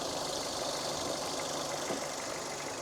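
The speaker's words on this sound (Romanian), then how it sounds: "Ce frumos merge motorul." A Dacia Duster with 200,000 kilometres on it idles nearby in a steady, even drone, with no voices over it.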